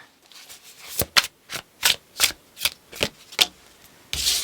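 Tarot cards are shuffled close by in a steady run of about eight quick, crisp riffling bursts, ending in a longer rustle.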